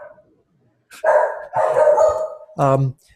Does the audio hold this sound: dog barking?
yes